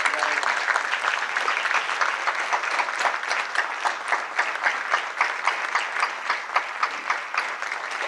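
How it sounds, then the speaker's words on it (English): Congregation at a Los Angeles mosque in 1991 applauding a minister, dense sustained clapping from many hands, steady and fairly loud, with rhythmic claps emerging toward the end. "Let's give Brother Minister Billy X a round of applause"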